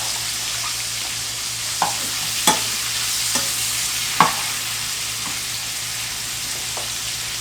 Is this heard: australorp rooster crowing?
no